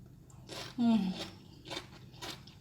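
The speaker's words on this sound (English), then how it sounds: "Vegetable is so crunchy." Crisp crunching bursts of someone chewing raw vegetables eaten with sambal belacan shrimp paste sauce, several bites spaced about half a second apart, close to the mic.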